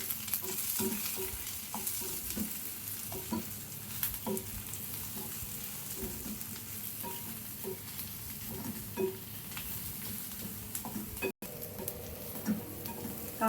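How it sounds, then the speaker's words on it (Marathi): Onion, green chili and garlic being stir-fried in a pan, with a steady close sizzle broken by frequent scraping and stirring clicks from a spatula, with no talk. "कांदा मिरची लसूण आपलं परतून झालंय"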